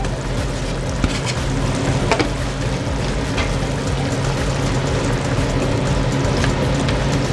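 Red onion frying in a pan of chicken liver and gizzard adobo, a loud, continuous close sizzle and hiss that stays even from start to finish.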